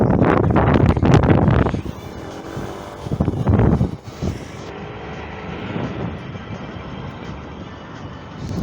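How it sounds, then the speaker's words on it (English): Gusty wind buffets an outdoor microphone with loud, broadband rumbling bursts, strongest in the first seconds and again around the middle, then settling into a steadier low roar. "Damn it, where did this wind came from?"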